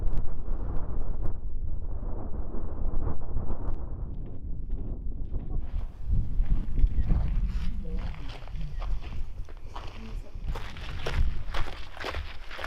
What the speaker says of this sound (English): Oh, it's very, very windy.